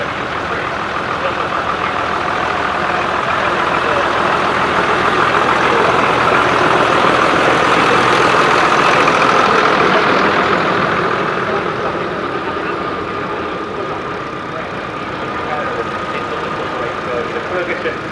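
A Ferguson TE20 tractor engine runs steadily at a tractor show, a continuous low rumble that swells slightly in the middle and holds on, with a voice speaking over it.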